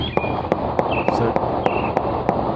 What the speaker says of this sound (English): That's just them shooting.